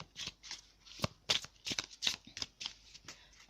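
A deck of new playing cards being shuffled quickly by hand, a close run of crisp, papery flicks and slaps in an irregular fast rhythm, heard alone.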